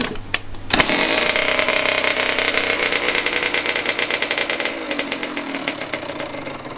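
A Kawasaki 85KX motocross bike catches on a kick start and runs, a loud, buzzy, raspy engine note that holds steady before easing slightly near the end, heard close and alone.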